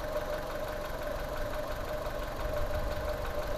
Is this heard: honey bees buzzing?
no